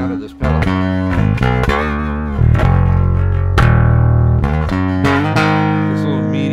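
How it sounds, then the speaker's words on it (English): An electric guitar through a Suncoast BC3 XL overdrive pedal with the drive raised plays loud, gritty sustained chords and notes with abrupt attacks and a thick, saturated tone. "I'm gonna bring the drive control up to start changing kind of the characteristics of the sound of this pedal"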